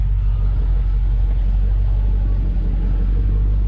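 A 1000-horsepower Hellcat idles with a heavy, steady low rumble, close and loud for several seconds, its exhaust note unbroken and no voices over it.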